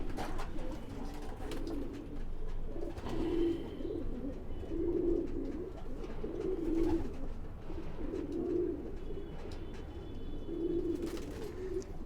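A breeding pair of Homer pigeons, one pinkish, coo in a slow repeating rhythm of soft throaty calls about every couple of seconds, close by over a low background hum.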